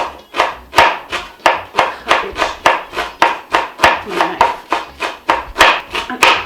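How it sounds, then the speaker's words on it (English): A kitchen knife shreds cabbage thinly on a cutting board with a quick, steady rhythm of sharp chops, about three a second. The sound is close and loud, with no talk over it. "I'd rather shred with my knife"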